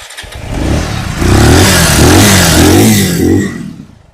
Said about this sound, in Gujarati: તમને ચાલુ કરીને બતાવી દો બાઇક